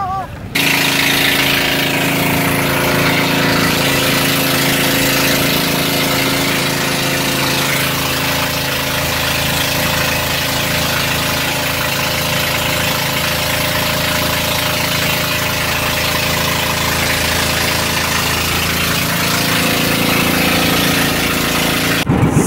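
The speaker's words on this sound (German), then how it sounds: "So, das ist unser Highspeed-Boot." High-speed boat at sea off the Philippines: a steady, loud engine drone with constant vibration that runs unbroken from start to finish, with no voices.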